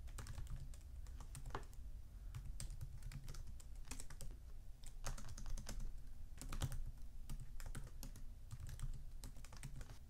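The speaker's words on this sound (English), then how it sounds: "typing in some code here" Code is typed on a computer keyboard in a steady, close stream of clicky keystrokes with occasional louder taps, over a faint room hum and no voices.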